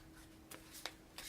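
Soft riffling of playing cards as a board game deck for 7th Continent is shuffled, faint and close, with a few brief snaps of cards over a quiet room hum.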